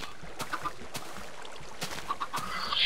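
Chickens in a video game clucking in a few short, sparse calls at moderate volume, with a brighter hissy rustle rising at the end.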